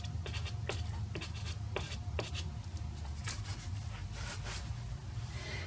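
Soft pastel drags across slick Yupo paper in quick, scratchy strokes, a rhythmic series of dry rasps that grows busier toward the end over a low steady background hum.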